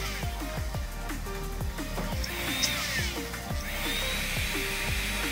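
A STRONG 204 jewelry micromotor drill bores into a workpiece with steady close-up whirring, its pitch dipping and recovering repeatedly as the bit loads and slows from low power.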